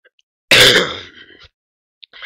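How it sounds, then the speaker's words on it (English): One harsh, close throat clearing bursts out loudly, trailing into a rough rasp, followed by a short pause and a faint breathy sound. "Sorry for the coughing"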